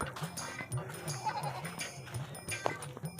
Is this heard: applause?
no